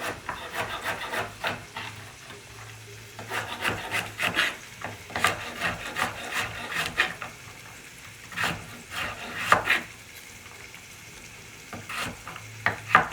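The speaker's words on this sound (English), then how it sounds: "I can smell that bacon, and it's nice and getting sizzly and delicious." Bacon sizzling in a pot, heard as a soft background fry, broken by repeated close scraping and rubbing strokes, like stirring or chopping nearby.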